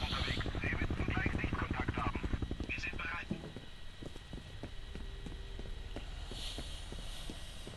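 A helicopter arriving in the video game F.E.A.R., a rapid rhythmic rotor chop with a steady hum that stays loud for the first few seconds, then continues as a fainter drone while voices talk.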